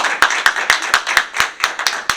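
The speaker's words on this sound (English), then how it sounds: "Give a round of applause." Rhythmic, sharp claps repeat about every quarter second, close and loud, like a small group clapping in time.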